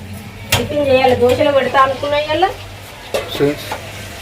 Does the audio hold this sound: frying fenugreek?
yes